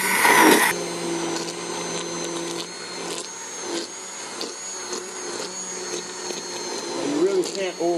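Blender pureeing chunky asparagus and vegetables into a creamy soup, a steady loud motor whir running throughout with slight shifts in pitch, under occasional talk.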